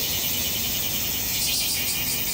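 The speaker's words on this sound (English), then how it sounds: "Look at all these cicadas" Cicadas buzz outdoors in Japan in summer, a continuous high-pitched drone that holds steady at moderate volume throughout, with no talking.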